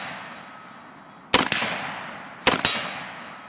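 Two sharp, loud shots from a Remington R-25 .308 rifle, each with a short echoing tail, spaced about a second apart over a quiet outdoor background.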